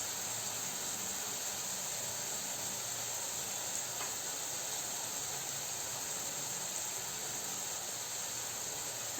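Onion frying in a pan for a paneer dish, a steady, even sizzle with a faint hiss that holds at the same level throughout, with no voices over it.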